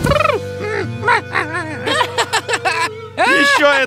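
A cartoon woodpecker's call, voiced by a performer imitating a bird: a run of loud, squawky, chattering gobble-like cries in quick bursts with short gaps.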